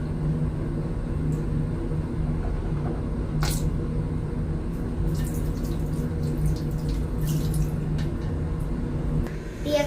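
Tap water runs steadily into a sink as a child rinses mouth and toothbrush, a constant close hiss with a few small splashes and clinks, no talking.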